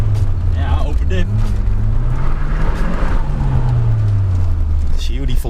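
Turbocharged wrapped car accelerating on a test drive, a steady loud engine drone rising and falling in pitch, close by with people talking over it.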